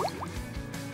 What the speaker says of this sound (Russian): Хорошенько промоем внутри.